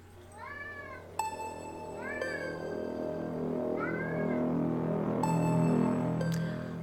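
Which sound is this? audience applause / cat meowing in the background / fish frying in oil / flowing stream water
cat meowing in the background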